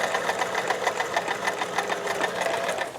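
A sewing machine runs a stretch stitch pattern, its needle hammering in a fast, steady mechanical rhythm with a whirring motor hum, close and continuous throughout.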